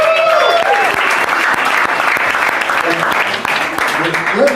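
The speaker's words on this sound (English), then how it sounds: "Give yourself a big hand." Meeting attendees applaud loudly and steadily throughout, a dense wash of many hands clapping with voices and cheers mixed in underneath.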